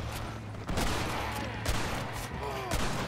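Gunfire in the Red Dead Redemption video game on Xbox 360: several sharp shot bursts land in quick succession amid game ambience, with a voice heard faintly.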